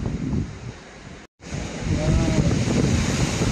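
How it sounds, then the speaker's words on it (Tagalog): Strong wind gusts on the high slopes of Mt. Pulag, Luzon's highest peak, roaring and buffeting the microphone in a continuous loud rush that briefly drops out, then swells again. "Pati lakas ng hangin. Para may bagyo."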